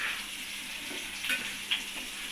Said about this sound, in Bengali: এদিকে তরকারি, মাছের তরকারি প্রস্তুত হচ্ছে